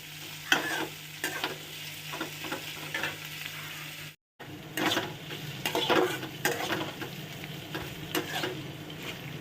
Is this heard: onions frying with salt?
yes